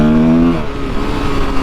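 An enduro motorbike's wheel spinning on a ride, the engine revving hard near the microphone and its pitch dropping partway through, loud and unaccompanied by speech.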